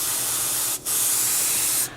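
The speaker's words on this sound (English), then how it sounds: "I know I'm spraying all of this" Spray paint hisses from an airbrush or can onto a Tamiya 1/32 Mitsubishi A6M2b Zero fighter scale model, a loud, close, steady spray broken by one brief pause and stopping near the end.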